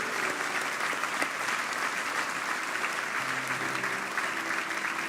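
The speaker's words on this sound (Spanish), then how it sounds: "dale 10 segundos de tu mejor ofrenda de palmas al Señor" A church congregation claps together in sustained, dense applause that stays steady and loud for the full stretch, with a faint murmur of voices beneath it.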